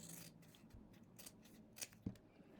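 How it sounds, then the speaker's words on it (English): Quilt fabric pieces are cut apart with scissors in a quiet room: a few soft, close snips and one sharper crunch near the end, faint and unaccompanied by talk. "Cut them apart."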